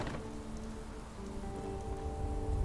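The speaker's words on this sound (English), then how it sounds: "It's raining." Steady rain falls in the post-apocalyptic video game Fallout 76, a continuous hiss of drops on surfaces with low rumbling and faint tonal game ambience underneath, no talk.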